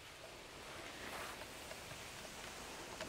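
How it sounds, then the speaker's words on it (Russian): Light rain falling in a forest, a soft, even hiss of drops on leaves and ground, faint and steady with a few brief taps standing out. "Дождик еще то идет, то не идет"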